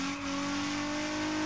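A drift car engine in the video game Torque Drift 2 during a clutch kick holds a steady, loud revving drone with strong harmonics for a brief moment, with no talking.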